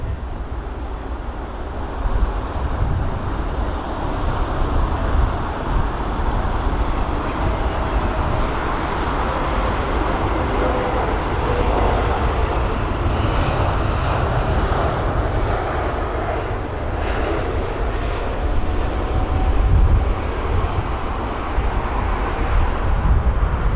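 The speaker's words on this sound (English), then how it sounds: "So the A320neo doing a really good job of that arrival" An Airbus A320neo comes in to land at London Heathrow on a windy day. Its engines give a loud, sustained roar and rush that swells toward the end, with gusty noise mixed in and no talking.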